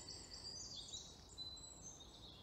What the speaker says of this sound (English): hearing these beautiful birds singing their hearts